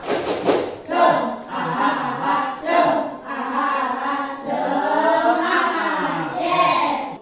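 A classroom group performs a rhythmic spirit-clap chant in Indonesia, voices shouting in unison with claps in a steady patterned beat, close and lively throughout.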